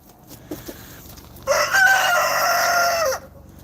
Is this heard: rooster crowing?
yes